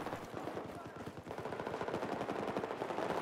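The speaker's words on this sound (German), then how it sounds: "Schieße ich da drauf, komm, Hitmarker." Rapid automatic gunfire in Battlefield 4 multiplayer, a dense sustained burst of machine-gun shots rattling at moderate distance, with a voice talking over it.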